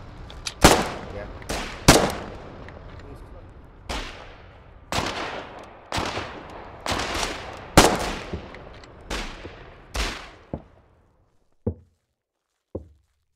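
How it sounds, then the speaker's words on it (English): Heavy machine gun fire in the war game Foxhole, a string of loud booming shots or short bursts with echoing decays, about a dozen in all, thinning to a few sparse reports at the end. "Oh boy, heavy machine gun around the corner."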